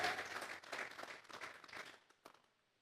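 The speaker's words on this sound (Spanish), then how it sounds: "Vamos a regalarle ofrenda de palmas al Dios de la gloria." A church congregation claps as an offering to God, a faint, moderately dense round of applause lasting about two seconds before trailing off with a final clap.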